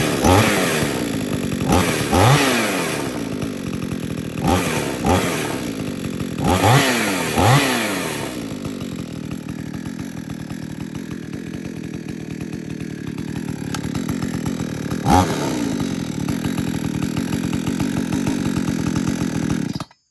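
A repaired chainsaw fitted with a new rope handle roars through several loud, rising revs in quick bursts, then settles into a steady, buzzing idle close by for the rest of the clip.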